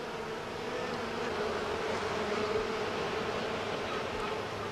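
Honeybees swarm around a hive, and their dense, continuous buzzing hum stays close and even throughout.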